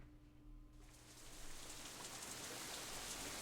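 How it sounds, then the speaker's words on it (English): Rain in the visual novel Katawa Shoujo starts falling near the girls' dormitory, a soft steady patter that swells after the first second into a dense, even wash of drops with no voices. "As we approach the girls' dormitory, it starts to rain again."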